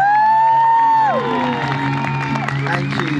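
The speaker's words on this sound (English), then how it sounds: "Let's hear an almighty cheer and round of applause for Olympic wheelchair basketball player Ade Adepitan." A crowd at an outdoor Heathrow fun day cheers and applauds for Olympic wheelchair basketball player Ade Adepitan, loud whoops and shouts rising and falling over steady clapping, with a sustained tonal fanfare-like sound at the start.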